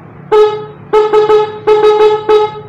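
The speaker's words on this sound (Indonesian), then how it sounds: "Coba kita cek ya suara klaksonnya." Stock motorcycle horn, a bright, nasal electric beep sounded several times up close: one long honk, then a rapid trio of short toots, then a longer honk and a few more quick blasts, loud and clear.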